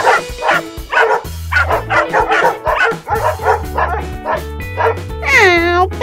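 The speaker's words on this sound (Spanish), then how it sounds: "perritos" Several small dogs yip and bark in quick bursts through a cartoon toy-adventure scene, mixed with a busy music score and animated voices speaking over them.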